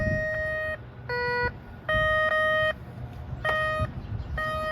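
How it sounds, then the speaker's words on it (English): A SkyCruiser professional waterproof metal detector gives out repeated bursts of steady electronic beeping on a beach, pausing briefly between bursts, with quiet ambient rumble underneath. "Now I'm gonna walk where there's nothing, okay? No coins. It's still beeping everywhere."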